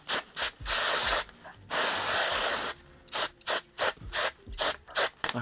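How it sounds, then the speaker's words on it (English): Repeated aerosol bursts of temporary hair spray paint, a couple of long hisses followed by a run of short, rhythmic spritzes, close and loud with no talking. "we're gonna spray it up"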